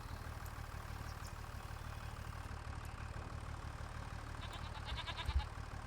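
Farm goats in a farming video game bleat faintly beside a low, steady engine-like hum, with a few quiet calls standing out near the end.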